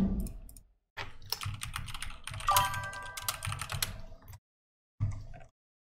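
Rapid keystrokes on a computer keyboard during an online typing speed test, a dense continuous clatter for several seconds that stops, then a short final burst of typing after a pause.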